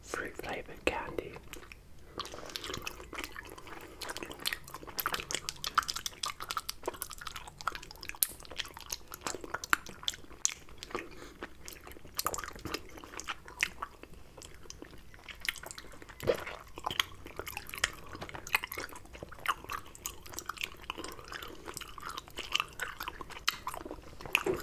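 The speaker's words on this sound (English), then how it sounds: "Some sort of candy that's very chewy, like a hard type of fruit flavoured candy." Sticky, chewy fruit-flavoured candy is chewed close to the mic, with wet, smacking mouth sounds and soft crunches running steadily throughout, mixed with faint whispering.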